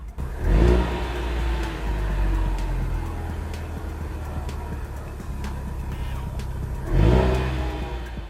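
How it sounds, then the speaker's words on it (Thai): A 2020 Ford Mustang 2.3L High Performance exhaust in race track mode roars through two sharp revs, one near the start and one near the end, with a deep rumbling idle in between. "นี่นะคะจะมีความแตกต่างที่เสียงปลายท่อนะคะ"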